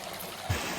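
A babbling brook flows beside a forest trailhead in Tasmania, a soft, steady burble of running water with a brief louder splash midway, no voices.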